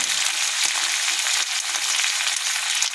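Spices for a mixed vegetable curry fry in hot oil with a steady, bright sizzle and crackle, close and continuous, with faint stirring.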